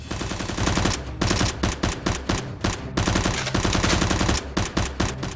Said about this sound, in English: ack gradually regains consciousness and sees Dr. Lee wildly shooting at Tony.